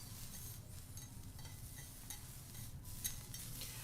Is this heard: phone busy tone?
no